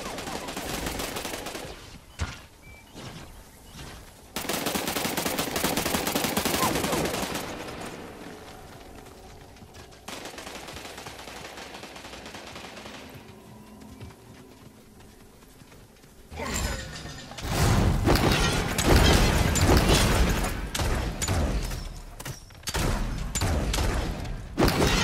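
Realm Royale gunfire arrives as long stretches of loud, sustained shooting broken by quieter pauses, heaviest and densest in the last third.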